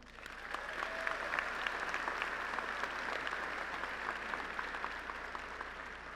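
Audience applause at a College of Engineering commencement ceremony at Lamar University, a broad continuous wash of clapping from a large crowd heard from a distance in a hall.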